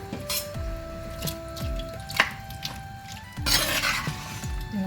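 A spoon stirs papaya masala curry in a pan, giving soft squelching strokes and occasional metallic clinks against the pan, with a few faint taps in between.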